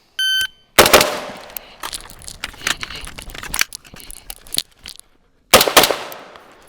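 Rifle shots fired during a reload drill on a range at about 15 yards: a sharp loud report opens, then a run of metallic handling clatter and clicks as the magazine is dropped, and a second loud shot near the end.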